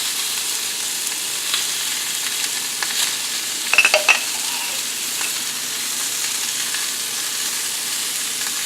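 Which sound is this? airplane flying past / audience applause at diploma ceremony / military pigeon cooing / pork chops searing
pork chops searing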